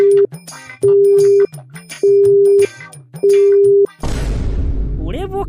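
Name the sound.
telephone busy signal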